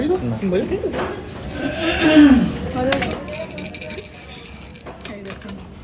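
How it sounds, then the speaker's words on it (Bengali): A small hand bell is rung at a restaurant lunch table, a bright sustained ringing arriving partway through, heard under lively family talk and laughter nearby. "একবার বাজা ঘন্টাটা বাজা"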